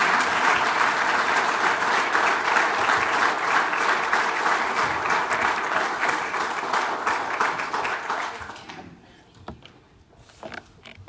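Sustained audience applause in an event hall welcoming a speaker for a State of the Airport address, dense clapping for about nine seconds before tapering off to scattered claps.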